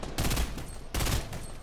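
Two loud, close bursts of weapon fire in Fortnite, about three-quarters of a second apart, each a sharp, broadband crack that quickly trails off.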